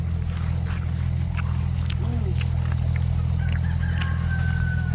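A rooster crows on a farm amid steady low engine-like hum, a brief curved call rising and falling once, fairly distant and partly masked by the constant background noise.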